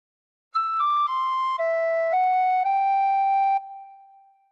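A tin whistle plays a short phrase of the Star Spangled Banner, a clear, close run of about seven steady, pure notes stepping down and back up, ending on a held tone that fades out.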